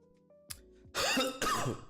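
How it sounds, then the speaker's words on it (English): Two rough bursts of coughing, a short throat-clearing catch followed by two loud, harsh coughs close to the microphone, heard indoors with no talk. "I'm just coughing"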